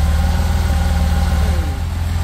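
A car engine idles steadily at about 865 RPM during an oil pressure test, with the engine warm at around 38 degrees C. The low rumble is loud and continuous, with a slight dip near the end and no talk.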